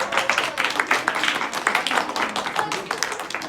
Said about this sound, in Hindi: आओ जोरदार ताली एक बार भाई